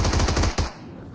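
Rapid burst of M249 machine gun fire in a video game, a dense string of close, loud shots for about half a second before a final shot and a fading tail.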